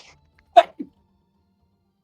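A single sharp sneeze bursts out up close, followed a moment later by a short softer vocal catch, then quiet, during a tabletop roleplaying game stream.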